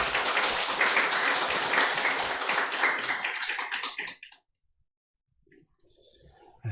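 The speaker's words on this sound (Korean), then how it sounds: "우리 하나님께 영광의 박수 올려드리겠습니다" A church congregation applauds during a Sunday Easter service, a full burst of clapping that thins and stops after about four seconds, leaving near silence with faint small noises.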